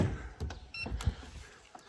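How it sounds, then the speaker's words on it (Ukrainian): Power window motors whir briefly in a 2012 Renault Megane 1.5 dCi, a couple of short electric glass-lift runs at moderate level with small clicks, no talking. "Чотири електросклопідйомники, електрозеркала, функція складання"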